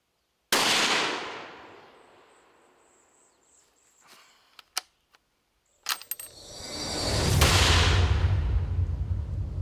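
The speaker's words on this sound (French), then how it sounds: "je vais tirer 3 autres cartouches 100 verges" Rifle shots from a short-barreled .308 Model 7 firing 150-grain TSX cartridges at a 100-yard range: two sharp, loud cracks several seconds apart, each trailing off in a long echoing rumble, with faint clicks of the action in between.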